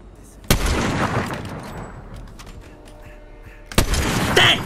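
Gunfire in Fortnite sounds as two sharp, loud shots spaced several seconds apart, each with a rattling burst, over a busy game background with faint voices.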